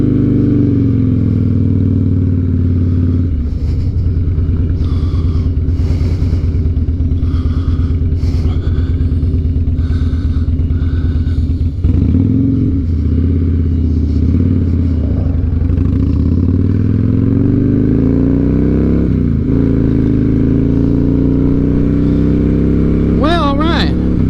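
Harley-Davidson motorcycle engine idling and running steadily up close: a loud, continuous low rumble that holds throughout, with a brief high whine near the end.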